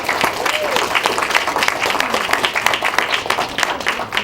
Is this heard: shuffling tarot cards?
no